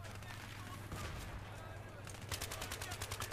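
Rapid automatic gunfire from an enemy hip-firing a light machine gun with laser sight and foregrip in Battlefield 3 on Sharqi Peninsula, short bursts early then a fast sustained burst of shots at close range.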